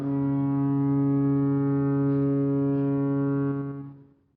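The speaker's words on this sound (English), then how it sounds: "I could hear the foghorn from way up toward Point Doom" A deep, steady foghorn blast from the distance holds one low tone for about three and a half seconds, then fades away, on a still, foggy coast.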